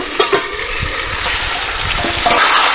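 Chicken curry stirred in a pan after simmering covered on low to medium heat: a steady, fairly loud sizzle with a few sharp scraping knocks near the start and later, with no talking.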